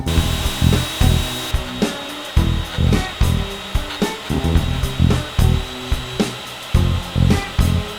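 A power tool bites repeatedly into wood, cutting a groove around a wooden vise screw in loud rhythmic bursts, each rising and dropping about twice a second over a steady motor whine.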